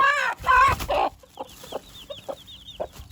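Loud clucking from a nearby chicken, followed by a series of softer, rhythmic clucks and faint chirps.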